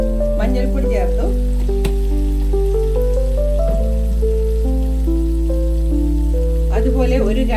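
Spices and tomato puree sautéing in a pan for chicken mahadooth, a steady close sizzle and frying crackle throughout, under a sustained tonal background with a few faint bursts of voice.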